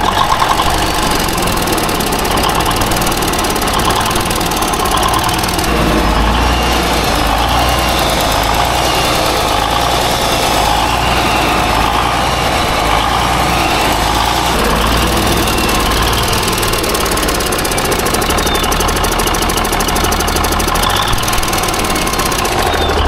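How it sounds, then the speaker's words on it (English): An engine with a valve tick runs at a steady idle for the whole clip, the throttle held open with vice grips, with a constant low rumble and a fine, even ticking under it. No one talks. "I'm gonna crank it up, take you over there, let you listen to the tick"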